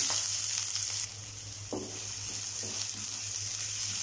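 Steady crackling and sizzling of mustard seeds spluttering in hot oil, loud and close, with a constant frying hiss throughout and no voices.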